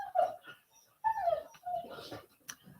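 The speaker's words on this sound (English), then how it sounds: "That dreadful noise you can hear is my puppies under the table being troublesome" Puppies under a table making a few high whimpering, yelping cries, close and moderately loud, in irregular bursts with short pauses between.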